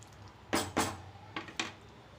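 Bottle gourd curry with gram flour being stirred in a pan, four distinct spoon scrapes and clinks against the metal, coming in two quick pairs, close and fairly quiet.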